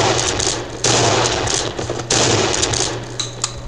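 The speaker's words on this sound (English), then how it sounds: "I got a shotgun! I'm not afraid to use it." A shotgun fires in the horror video game Cry of Fear, with several loud, close blasts at irregular intervals over a steady low background hum.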